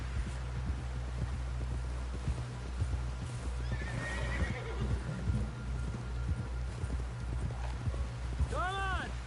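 Horse hooves clip-clopping in a steady rhythm in a video game, with a low droning score underneath, speech over it, and a loud whinny near the end.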